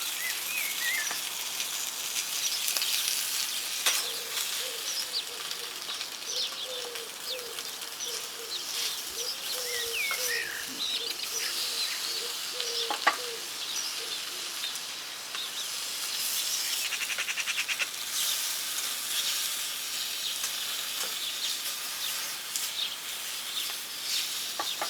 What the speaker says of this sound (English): But it's probably cooked enough for me to get the bacon in.